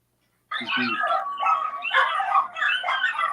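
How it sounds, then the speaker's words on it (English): A dog comes in and barks in a quick run of loud, close yips and woofs that start abruptly and carry on to the end, with whimpery tones mixed in. "He came in and he barked at us."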